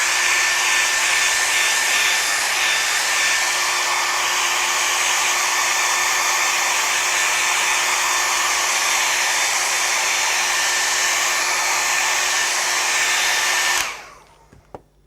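A hair dryer blows steadily on a painting to dry the wet paint, a loud, close, continuous whir that runs unbroken for about fourteen seconds before switching off and fading away.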